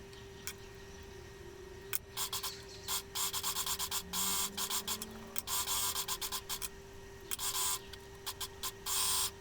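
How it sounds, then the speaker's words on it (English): An overlocker serger runs along the outer edge of a dress facing in bursts of fast mechanical whirring, starting and stopping repeatedly over a faint steady hum, close and fairly loud. "We're going to overlock the outer edge of the facing."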